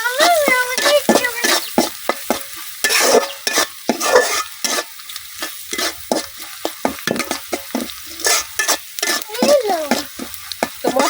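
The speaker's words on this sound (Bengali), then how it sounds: "তো মশলাগুলা খুব ভালোভাবে আমি পেঁয়াজ আর মরিচের সাথে মিশাই নিচ্ছি" Coriander powder, turmeric and salt stirred into onions and green chilies in a hot frying pan, with loud repeated spatula scrapes and clatter over a steady sizzle, close up.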